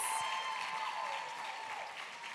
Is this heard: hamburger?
no